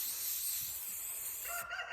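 Spray paint can hissing in a steady continuous burst while painting urban camo over an AR rifle, close and fairly loud, with the spray cutting off near the end and a brief higher tone following.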